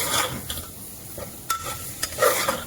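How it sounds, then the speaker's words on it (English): Mutton mince roasting with masala in a pan over a high flame, a low sizzle broken by several sharp scraping stirs and clinks of a spoon against the pan. "We'll be roasting it for 3 to 4 minutes again with the masala"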